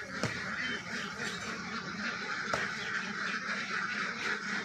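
Ducks on a village duck farm quack in a dense, continuous mid-distance chorus, with a few sharper calls standing out and no talk.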